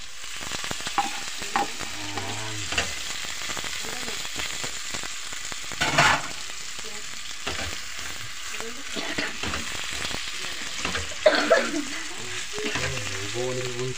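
Chopped lechon (roast pork) frying in a hot pan for lechon paksiw, a continuous loud sizzle with occasional clanks and scrapes of a utensil stirring, up close with no talking.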